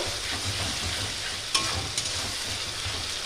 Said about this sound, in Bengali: এটা একটু ভালো করে আমি নাড়িয়ে চাড়িয়ে নেব।